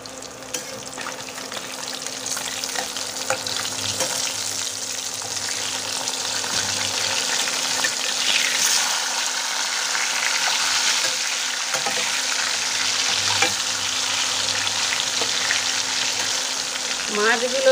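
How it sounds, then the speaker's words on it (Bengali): Fish sizzles steadily in hot oil in a home kitchen pan, a continuous loud crackling hiss with occasional stirring clinks and a faint steady hum beneath. "তো ওই মাছ ভাজছি, এখনও ভাজতে বাকি আছে।"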